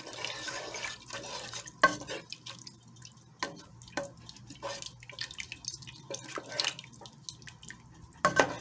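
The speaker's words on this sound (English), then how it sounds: "add our bouillon powder. And we're going to give that a nice good stir" Beef broth and bouillon powder are stirred in a pot for homemade beef pot pie, giving soft liquid sloshing with scattered clinks from the spoon against the pot, close and fairly quiet.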